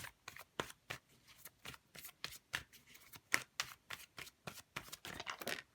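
A deck of tarot cards being handled and shuffled close up, with a quick series of crisp riffling and sliding card sounds in an irregular rhythm.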